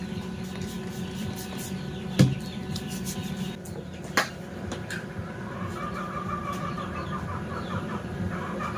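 Newly hatched chicks from a poultry batch of Dominant Black D109 birds, faint continuous peeping and clucking with a couple of brief sharp knocks, fairly quiet and close.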